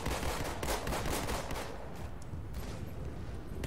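Rapid gunfire in a Halo multiplayer match, a dense rattle of shots packed into the first two seconds, then thinner scattered shots against game ambience.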